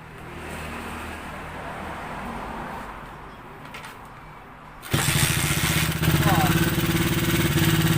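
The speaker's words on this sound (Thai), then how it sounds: "เราไม่บิดคันเร่งมันก็สตาร์ทติดนะครับ" A JX110 motorcycle engine, sent in for repair with parts swapped, starts without throttle and settles into a loud, steady idle after a few seconds of quieter background noise.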